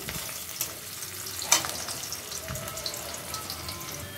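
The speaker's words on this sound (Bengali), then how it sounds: "তো আজকে বিরিয়ানি রান্না করব, সেজন্য দেখো পেঁয়াজটা ভেজে নিচ্ছি" Onions fry for biryani with a continuous, even sizzle and hiss close by, broken by one brief clink of a utensil.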